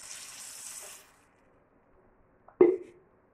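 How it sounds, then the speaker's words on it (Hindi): Water poured from a glass into a cooking pot for mushroom rice, a steady splashing pour lasting about a second, then quiet and a single sharp clunk near the end. "अब मैं इसमें ऐड करूंगी पानी को"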